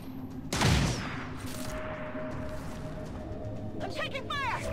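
Gunfire in the XCOM Long War 2 video game: a loud burst of shots opens, then lighter crackling fire and a droning tone continue, with synthetic chirping effects near the end.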